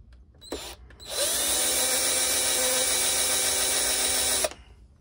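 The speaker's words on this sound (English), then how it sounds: "pre-drill the hole" A power drill pre-drills a hole in the frame of a custom 12-inch G.I. Joe vehicle. A brief knock comes first, then one steady, loud whirring run of about three seconds that stops abruptly.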